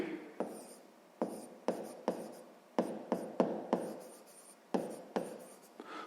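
Pencil writing in a school notebook during a sixth-grade maths exercise, a series of short scratchy strokes close up, about a dozen quick marks in an uneven rhythm against a quiet room.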